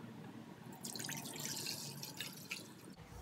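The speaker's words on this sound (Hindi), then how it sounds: "यहाँ बहुत ज़्यादा ठंडा पानी है तो मैं इस बाउल में डाल दूंगी।" Cold water trickles and drips into a bowl in the kitchen while chicken wings are being prepared, a soft, faint splashing that builds briefly in the middle and then tapers off.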